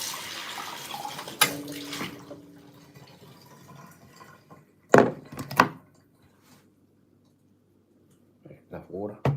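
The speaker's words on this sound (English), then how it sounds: "so I'm going to put the kettle on, excuse the noise" Tap water runs into a kettle for a couple of seconds, a steady rushing fill that then stops, followed by a few sharp thunks of handling and a person talking.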